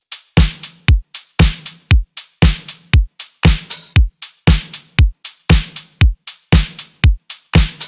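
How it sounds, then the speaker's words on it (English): Programmed electronic drum loop in a simple four-on-the-floor pattern, steady kick on every beat with crisp bright hits layered on top, repeating evenly and loud throughout with no other instruments or voices. "I just made a simple 4 on the floor pattern,"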